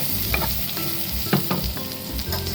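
Onion leek and shrimp stir-frying in a hot pan, a continuous loud sizzle with a few scraping and clattering stirs of a utensil against the pan, close up and without talk.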